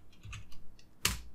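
Typing on a computer keyboard, a short run of soft key taps followed by one sharper, louder keystroke, close and alone in a quiet room.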